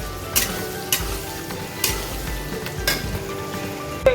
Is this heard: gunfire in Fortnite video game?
no